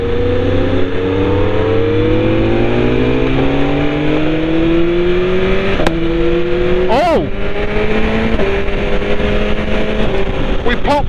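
A BMW naked motorcycle redlining at 13,000 RPM accelerates hard, its engine note climbing steadily through the gears with a sharp exhaust pop and a brief rushing burst mid-run, loud and close, with talk over it.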